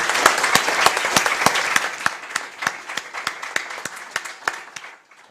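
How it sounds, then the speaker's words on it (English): An audience at the Yerevan Dialogue international conference applauds the Minister with steady, crisp clapping that gradually thins to a few scattered claps and stops abruptly. "Please join me in applauding the Minister for his efforts"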